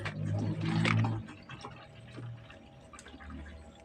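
Tap water running into a kitchen sink, a gurgling fill up close in the first second or so, then softer drips and trickles continuing with faint ticks and knocks.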